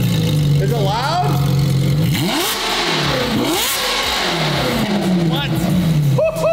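A Ferrari 458 GT3 widebody race car engine revs hard and loud up close, its pitch sweeping up and down through repeated throttle blips, with excited voices talking over it.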